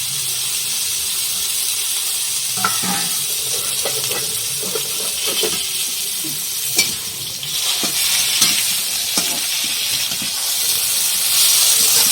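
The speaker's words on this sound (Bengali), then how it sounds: "এই তেলের মধ্যেই বেগুনগুলো একটু ভেজে নেবো" Eggplant pieces frying in oil for a fish curry, a continuous close hiss and crackle with scattered stirring knocks, swelling louder toward the end.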